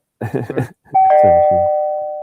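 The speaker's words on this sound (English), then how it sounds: "Why is the doorbell ringing?" A doorbell rings indoors with a sustained two-tone chime that rings out and slowly fades, right after a short burst of talking.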